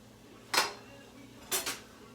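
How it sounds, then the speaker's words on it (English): Cooked rice is tipped into a pan of wilted spinach, giving two short soft clattering scrapes about a second apart, close and fairly quiet. "we're just going to add in our rice to it"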